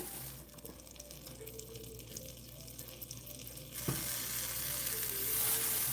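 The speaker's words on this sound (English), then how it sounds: "just keep stirring, guys. Keep stirring" Grits being stirred in a pot for Cajun shrimp and grits, heard as a steady low scraping and bubbling that grows louder and brighter near the end, with no talking.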